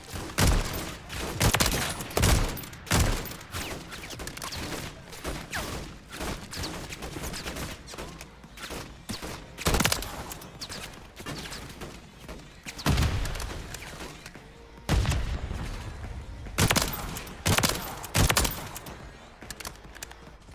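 Gunfire rattles through a free-for-all video game match, with repeated bursts of shots and heavy thumps at an irregular pace, loud and close among background game sounds.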